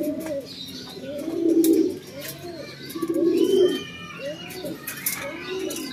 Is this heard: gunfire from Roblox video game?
no